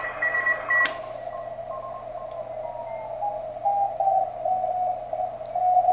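CW station tone on a TenTec Century 21 transceiver, a steady whistling carrier whose pitch glides downward as the tuning moves across it, over a hiss of band noise with faint beeps.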